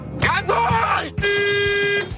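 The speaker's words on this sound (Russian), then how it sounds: "Что ты бибикаешь?" A car's horn sounds in a long, steady blast lasting about a second, preceded by a voice speaking loudly inside the vehicle during a driving lesson.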